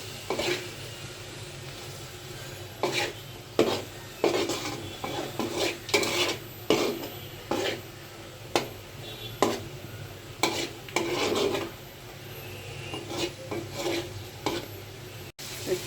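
Snakehead fish, to be cooked later with beans, is stir-fried in a pan. A spatula scrapes and clanks against the metal in irregular strokes over a low, steady sizzle, close up and with no talking.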